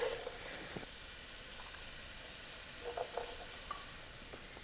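Vegetables, including a large carrot, sauté in a pot with a steady, fairly quiet hiss of frying, broken by a few soft clicks of stirring. No one speaks.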